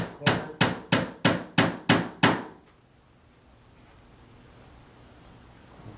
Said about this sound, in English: Finish nailing.